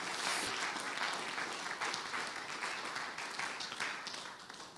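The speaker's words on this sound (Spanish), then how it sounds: "Denle palmas, palmas son para el Señor" A church congregation applauds together, a dense, sustained wash of clapping from many hands that holds steady for several seconds and then eases slightly at the end.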